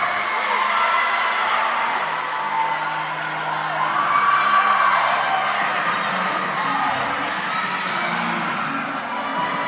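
A crowd at an acrobatics and tumbling final between Fairmont State and Glenville State cheers, whoops and yells in a loud, sustained roar that swells midway and stays dense throughout.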